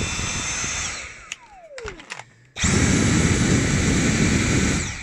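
A Dyson V7 Motorhead Pro cordless vacuum whines loudly, cuts out with a falling motor pitch and a few clicks, then starts again at maximum suction as a strong, steady high roar, heard close up with no talking.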